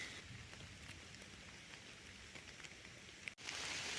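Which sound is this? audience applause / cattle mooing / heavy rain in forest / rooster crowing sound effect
heavy rain in forest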